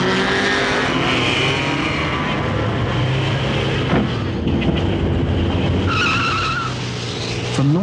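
Race cars running a warm-up lap, a loud, continuous roar of engines with tire squeal and skidding, close and dense throughout with no pause.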